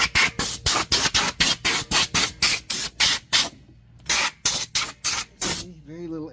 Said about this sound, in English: Then we can hit it with a little air, let it dry, whatnot.